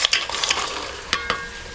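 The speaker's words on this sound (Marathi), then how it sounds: "गूळ ह्याच्यामध्ये पूर्णपणे एकजीव झालं पाहिजे तोपर्यंत थोडंसं ढवळून घेणार आहे." Jaggery stirred into boiling coconut milk in a pot, a few quick scraping and sloshing strokes of a spoon with a soft bubbling sizzle underneath, close and alone.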